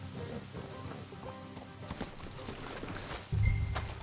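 Hooves clop at a walking pace from a horse in Red Dead Redemption 2, a close, even rhythm over a quiet game soundtrack, ending with a louder thump near the end.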